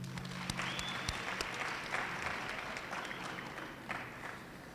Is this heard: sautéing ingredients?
no